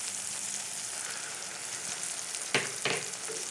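Onion, tomato and mustard paste fry steadily in a pan for fish curry, a continuous close sizzle with two brief scraping stirs near the end.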